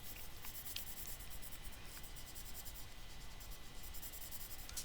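A pencil shades texture onto a paper drawing of a perspective maze, giving a steady soft scratching and rubbing that runs close and continuous, with a few brief sharper strokes and no talking.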